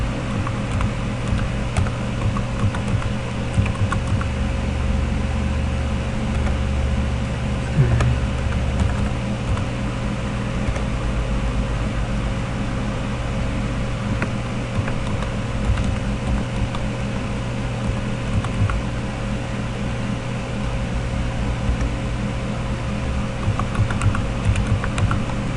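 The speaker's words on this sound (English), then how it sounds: "This is where you're going to type in the path of the wallpaper." Steady typing on a computer keyboard while entering a wallpaper path in a Windows Server 2008 group policy setting, with continuous soft key clatter over a constant low hum for the whole stretch.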